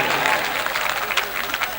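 Audience applause at a Hindi-Urdu poetry recital, a mushaira, a steady wash of clapping from a crowd heard briefly and fairly loud.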